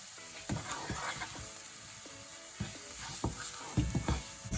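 Garlic sautés in hot oil with a pinch of salt, giving a steady soft sizzle under scattered light clinks and scrapes of stirring, fairly quiet and close with no voices.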